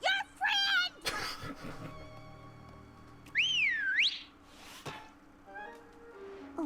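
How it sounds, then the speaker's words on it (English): A whistle blown in the My Little Pony: Friendship Is Magic season 6 episode Flutter Brutter gives one shrill, sliding blast mid-scene, surrounded by other cartoon sound effects and animated voices. "A whistle always works."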